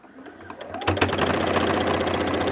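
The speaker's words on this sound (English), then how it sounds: "I never understood why people would have more than one sewing machine." A sewing machine starts up and runs at a rapid, even stitching rhythm, close and fairly loud, picking up speed after the first second and then holding steady.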